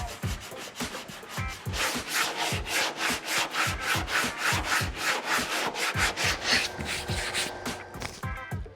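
A sanding block with 36-grit paper is worked by hand over body filler on a Camaro race car's fender flare, giving a close, loud, steady rhythm of rasping back-and-forth strokes, roughly two per second.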